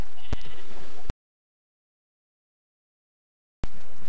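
A single short sheep bleat from the Minecraft video game, loud and close, cut off abruptly and followed by silence before background noise returns.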